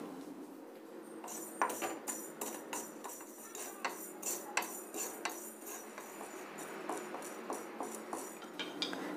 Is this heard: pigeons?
no